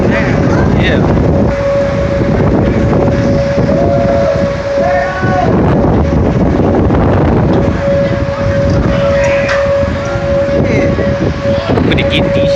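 Strong wind blows hard outdoors while a funnel forms, a loud continuous roar buffeting the microphone, with a steady tone running through it and voices talking now and then underneath.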